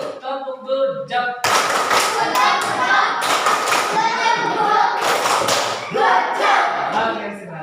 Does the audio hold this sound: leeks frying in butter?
no